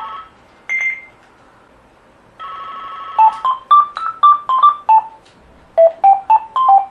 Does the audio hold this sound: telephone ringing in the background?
yes